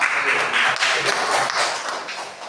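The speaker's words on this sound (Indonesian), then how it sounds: "Tepuk tangan untuk kelompok 1 yang diwakili oleh Febiola" Classroom applause for a student group, a steady patter of many hands clapping close by that carries evenly through the whole stretch.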